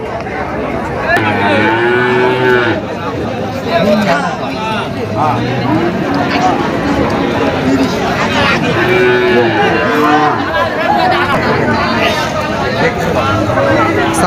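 A Sahiwal cow moos repeatedly at a busy cattle market, with loud drawn-out lows that recur over steady crowd chatter and people talking nearby.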